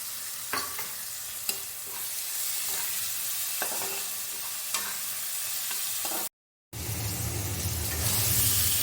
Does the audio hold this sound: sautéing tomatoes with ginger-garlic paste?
yes